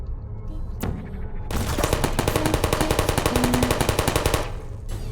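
Turret machine-gun fire in Portal: a sharp click, then a loud, fast, steady stream of rapid shots lasting several seconds before stopping abruptly.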